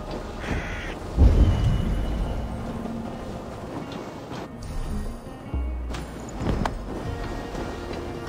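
Seabirds calling at the White Cliffs of Dover in a video game, a few harsh caw-like cries scattered over a steady outdoor ambience with some thumps and rustles, moderately close.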